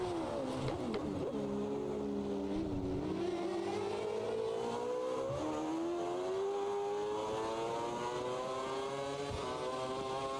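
A V8 Formula One race car engine at the Chinese Grand Prix in a racing video game, loud and continuous, revving high with repeated pitch climbs and dips as gears change, no voices.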